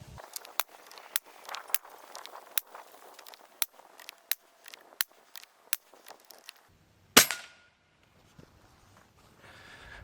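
An Airgun Technology URAGAN bullpup PCP air rifle firing a rapid string of sharp snapping shots, each followed by a soft metallic clack, ending with one louder crack and then quiet.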